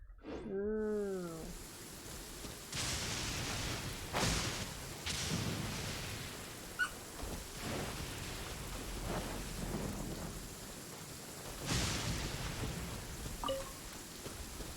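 Thunderstorm in the video game Genshin Impact, with steady rain hiss, several sharp lightning cracks and rumbling thunder spread across the scene, plus a brief warbling tone at the start.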